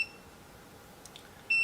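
A VEVOR 12-inch foldable oscillating standing fan beeps as the remote switches it on, giving two short, clear electronic tones, one at the start and one near the end, with quiet between them.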